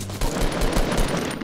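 Rapid automatic gunfire from a Fortnite match, shots striking a wall in a dense, continuous burst that stays loud and close throughout, with no talking.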